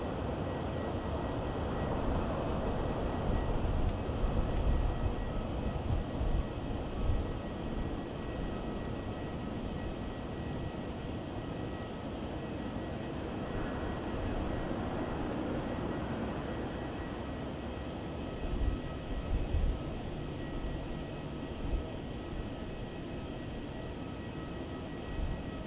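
A broad, steady jet engine roar rumbles from an airliner taking off from runway 27 at Melbourne Airport, heard from a distance, swelling slightly in places without fading over about twenty-five seconds.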